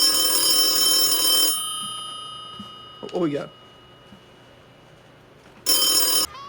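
A telephone rings in two loud bursts of bright electronic trilling separated by a few seconds of quiet, close up, with a brief spoken question in between.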